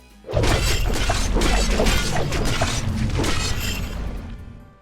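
Harsh metallic clashing and shattering blade impacts from Dota 2 pile up in a loud, dense burst, with swooshing debris that slowly thins out toward the end.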